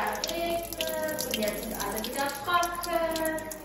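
Water running steadily from a tap into a container for watering cress at home: a continuous close splashing stream with rising bubbly tones as it fills, while people talk over it.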